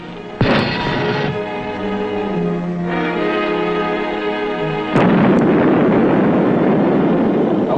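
A submarine torpedo strikes a target in an old television naval drama, a sudden booming blast followed by a rumbling roar, then a second heavy hit that leaves a long loud rushing wash.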